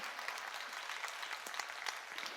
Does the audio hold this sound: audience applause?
yes